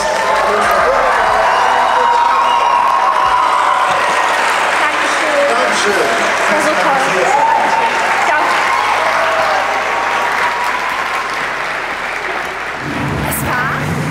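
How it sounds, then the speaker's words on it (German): A large seated audience applauds warmly and steadily at a full-house event, loud and sustained throughout with some cheering mixed into the dense clapping. "Bitte gebt einen ganz, ganz großen, warmen Applaus."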